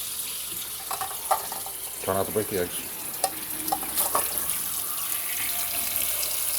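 Running cold tap water splashes into a pot holding eggs, with brief clinks and a voice speaking over the steady flow.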